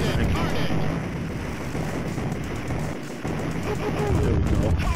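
Constant shooting in the Total Carnage arcade video game, a dense, noisy barrage of gunfire and blasts filling the whole clip, with a voice talking over it.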